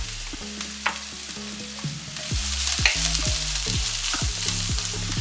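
Chopped onions sizzle steadily in a pan for a squid roast, with repeated scraping strokes of a spoon stirring them and occasional sharp clinks, close and fairly loud throughout.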